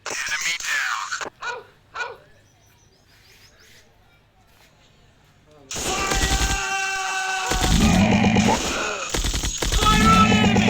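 Automatic gunfire in the shooter game Commando Strike: after a quiet stretch with a few faint blips, loud rapid machine-gun bursts erupt and keep rattling close up to the end.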